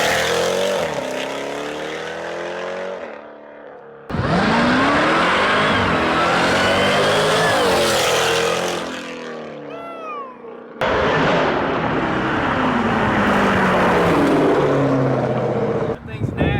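A 1000 hp Jeep Trackhawk engine revs loud and close, its pitch climbing and dropping through gear shifts with two sharp breaks where shifts cut in, while people talk over it.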